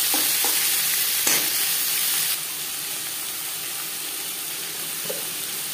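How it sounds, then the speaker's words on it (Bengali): Small skin-on potato pieces frying in hot oil hiss loudly and evenly, with a couple of soft utensil taps, then the sizzle drops to a quieter steady crackle for the rest of the stretch. "প্রথমে আমি পান্তা ভাত সার্ভ করার জন্য আলু ভেজে নেব।"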